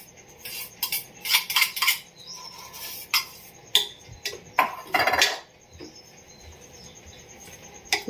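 Fresh cream (malai) spooned into a bowl for homemade ice cream, a run of light metallic clinks and soft scrapes of a spoon against the bowl, close and quiet, then a calmer stretch with only small taps.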